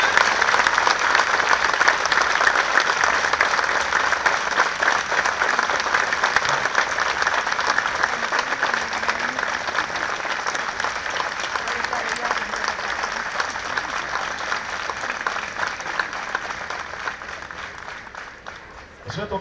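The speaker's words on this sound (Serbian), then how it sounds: "ja vas molim da jednim gromoglasnim aplauzom pozdravimo našeg Filipa" A large audience at a 2018 charity event, "Igramo za Jocu," claps and cheers thunderously to greet Filip, with a dense, sustained roar of applause filling nearly twenty seconds and easing slightly toward the end.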